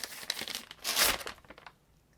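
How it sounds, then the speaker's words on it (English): Wrapping paper crinkles and tears as a wrapped book from a September subscription box is opened, a close, continuous rustle building to a louder rip in the middle before fading out, with no talking. "Whenever I, like, unwrap a book on this channel"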